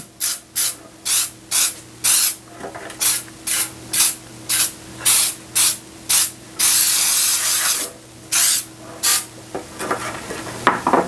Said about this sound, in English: now I'm going to spray my loaf pan with baker's joy